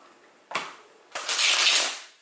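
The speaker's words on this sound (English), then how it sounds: "I cannot shuffle today." Tarot cards being shuffled by hand: a brief riffle, a pause, then a longer papery flutter that runs for about a second, close and crisp.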